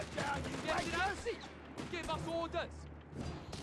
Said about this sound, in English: the Vickers basically was just an improved Maxim machine gun